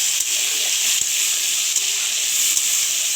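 Prawns fry in oil with a steady, close bright sizzle and occasional soft pops, heard on its own.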